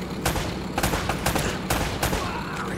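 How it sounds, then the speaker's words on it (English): Rapid gunfire in Uncharted: Drake's Fortune, repeated sharp volleys of shots cracking in quick bursts at close range, fairly steady and unbroken across the moment. "Less talking, more shooting!"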